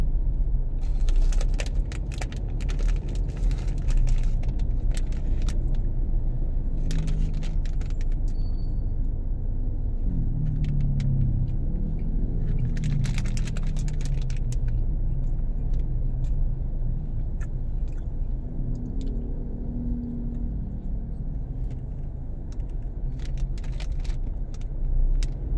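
Steady road traffic rumble along C5 Road in Libis, with cars passing close by in a continuous low drone and occasional brief metallic jingles, heard alone without talk.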